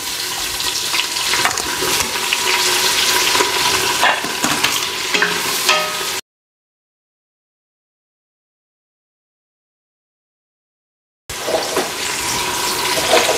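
Onions sautéing with spices such as cardamom and fennel in a pan make a steady, loud sizzle with stirring scrapes, with no speech. The sound cuts out for about five seconds in the middle and then resumes.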